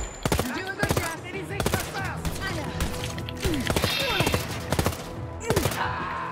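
Wolfenstein: Youngblood gunfire, with repeated sharp shots going off in quick irregular bursts throughout, mixed with clatter and other game sounds and a voice talking over parts of it.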